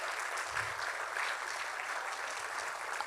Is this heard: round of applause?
yes